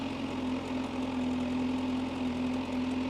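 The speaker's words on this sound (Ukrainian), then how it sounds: "Мотоцикл прогрітий." A Kawasaki ZH2 motorcycle engine, warmed up, idles steadily nearby, a low, even rumble with a steady hum, no voices.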